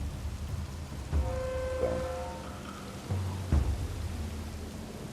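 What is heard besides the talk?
rain falling in the video game Colonize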